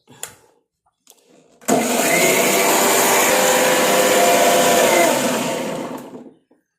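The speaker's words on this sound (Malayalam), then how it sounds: "നല്ല പോലെ അരച്ചെടുക്കും" An electric mixer grinder whirs loudly and steadily for about four seconds while grinding a spice paste for fish curry, then winds down, after a few brief clicks at the start.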